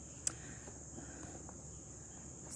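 Insects chirr and buzz steadily outdoors in a faint, continuous high-pitched drone, with one brief soft tap early on and no voices.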